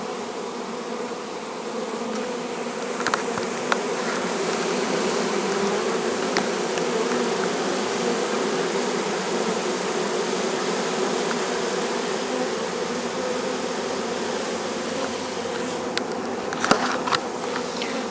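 A swarm of honeybees crawls into a hive, making a dense, steady buzzing hum that carries on throughout at an even level, with a few louder passes near the end.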